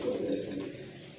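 Soft, low pigeon coos close by, a brief throaty murmur over faint background hum.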